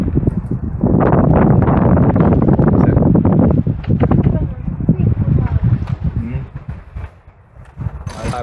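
Wind buffets the microphone aboard a new sailboat on a test sail. The roar is loud and gusty, rising and falling under conversation, with rustling and flapping noises.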